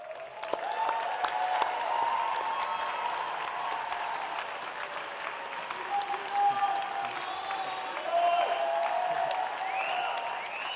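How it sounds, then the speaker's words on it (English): Standing postgraduate business students at their 2024 London graduation applaud one another, a steady, moderately loud wash of clapping from a large hall with faint cheers and crowd murmur, lasting about ten seconds. "give each other a warm round of applause for what we have achieved"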